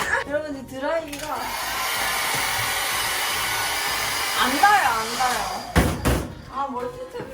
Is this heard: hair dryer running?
yes